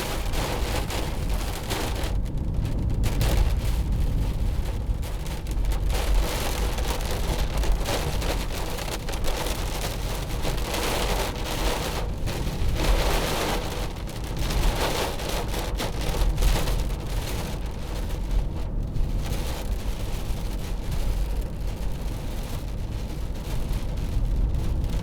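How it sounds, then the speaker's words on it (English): Heavy rain drums steadily on a 2015 Mercedes-Benz C200 C-Class, a continuous close patter on the bodywork that swells and eases in places, with no talk. "The rain bouncing off."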